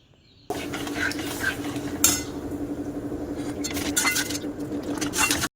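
Semolina for a sweet dish is stirred in a pot over a lowered stove flame, with steady, close scraping and clinking of a spoon against the pot running continuously.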